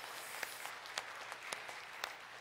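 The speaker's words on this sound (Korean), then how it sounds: "하나님께 영광의 박수 올려드리겠습니다" A church congregation at a Sunday service applauds, with a soft, steady wash of clapping and a few sharper individual claps standing out at fairly regular intervals.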